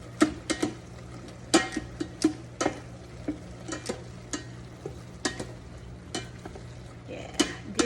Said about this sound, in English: A couple tablespoons of butter. And we're gonna mix that in.